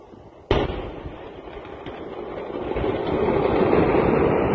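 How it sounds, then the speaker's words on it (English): A sharp burst of fireworks goes off, followed by a rolling rumble of crackling explosions that builds and continues. "Wow, wow, nice firework."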